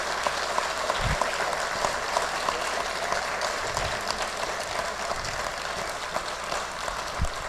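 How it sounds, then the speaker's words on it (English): An audience at a municipal election candidate forum clapping for the candidates, a moderate steady patter of many hands through the whole stretch with occasional low thumps, heard at a slight distance. "give them a round of applause"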